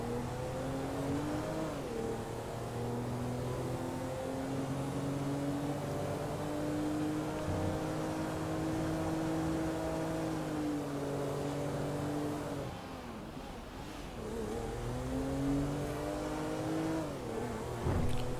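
Audi A4 engine in GTA 5 revving hard in reverse, a steady loud drone with rising and falling pitch, dipping briefly near the end before climbing again, no voices.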